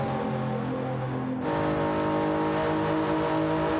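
GT3 race cars at Monza in Gran Turismo 7 during pit stops, a loud continuous engine drone with steady harmonic whine that jumps louder and brighter about halfway through as revs rise, no talking.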